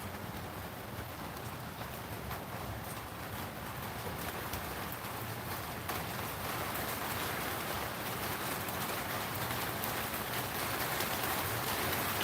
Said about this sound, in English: here comes the big rain, you guys. You guys listen to the rain